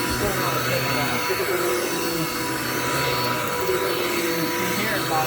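A Dirt Devil vacuum cleaner runs loud and steady at close range, its motor droning and straining as it bogs down, with a voice speaking over it.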